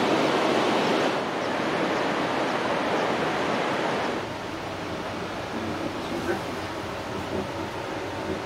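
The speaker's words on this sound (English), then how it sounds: "Rapids in the river down there." Rushing river rapids far below a cable car ride in Colombia give a steady broadband roar, louder for the first four seconds and then somewhat softer, with no speech over it.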